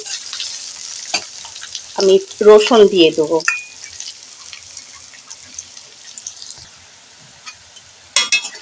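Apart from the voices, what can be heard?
frying chopped onions in a pan, stirring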